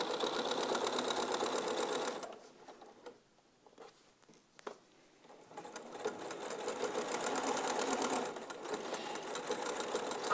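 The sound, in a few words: sewing machine stitching fabric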